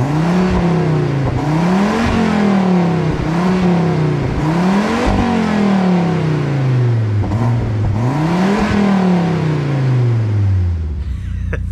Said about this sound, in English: let's get some revs going